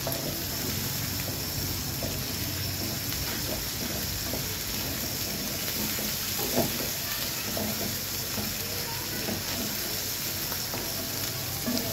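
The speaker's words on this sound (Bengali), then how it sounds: "ঢাকনা ছাড়াই এটাকে আমি একদম ভাজা ভাজা করে নিব" A fatty belly cut of catla fish fries in an uncovered pan, a dense and even sizzle held at a constant level close by. No voices are heard.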